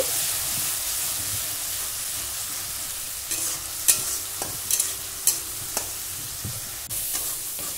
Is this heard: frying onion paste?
yes